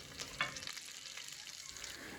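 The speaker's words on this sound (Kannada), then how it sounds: "ಇದನ್ನೆಲ್ಲ ಹಾಕಿ ಚೆನ್ನಾಗಿ ಒಗ್ಗರಣೆ ಕೊಡಿ" Chopped onion, garlic cloves and dried red chillies fry in hot oil with popped mustard seeds as a tempering for Karnataka massoppu saaru. A soft, steady sizzle runs throughout, with light stirring scrapes.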